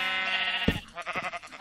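A sheep in the Minecraft Tekkit video game bleats once at close range: a steady, harmonic-rich bleat followed by a sharper wavering cry.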